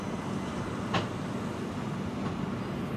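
The 17418 Shirdi–Tirupati weekly express pulling away on a single line gives off a faint, even rumble that holds steady, broken by one brief sharp click early on, with no voices.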